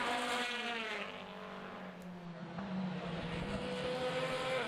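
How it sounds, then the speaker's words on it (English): A V8 Formula BOSS race car roars past on a wet track at Mondello, loud and close, its engine note rising and falling through gear changes with steady track noise underneath and no talk. "Donald Griffin's V8 sounding great today."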